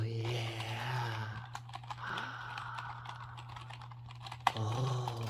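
Rapid clicky keystrokes on a mechanical keyboard tap out in an irregular burst, close and crisp, set against a low steady hum with someone talking at the start and end.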